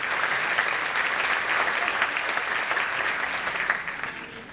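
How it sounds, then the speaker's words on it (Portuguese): A church congregation applauds during a Portuguese-language sermon, a dense, steady wash of many hands clapping that carries through the whole stretch and eases slightly at the end, with no voices over it. "Você pode aplaudir a palavra de Deus."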